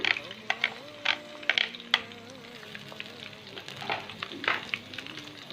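Ginger garlic paste sizzling in a pan with lightly browned onions while being stirred for fish biryani, a steady close fry with irregular clinks and scrapes of a spoon against the pot, no talking.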